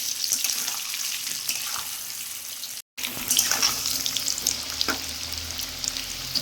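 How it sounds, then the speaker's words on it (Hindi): Potatoes fry in hot oil in a home kitchen, a loud continuous sizzle and crackle close by, broken by a brief dropout midway before the bubbling resumes. "अब इसी ऑयल में मैं इस आलू को भी फ्राई कर लूँगी।"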